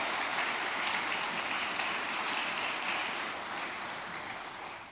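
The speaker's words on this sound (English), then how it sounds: "Let's give a round of applause." A church congregation applauds steadily for several seconds, a dense wash of clapping that tapers slightly toward the end.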